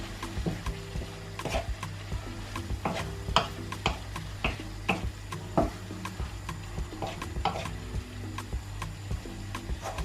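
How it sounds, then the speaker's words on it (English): Meat pie filling with Maggi seasoning stir-frying in a pot, a low steady hum under light tapping and scraping stirs at an uneven pace, fairly faint and close with no talk. "I will leave it to fry a little bit more. Stir fry."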